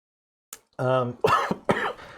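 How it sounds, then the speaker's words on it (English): One sharp cough lands close by, followed by a few rough, voiced throat sounds. "There's my cough again."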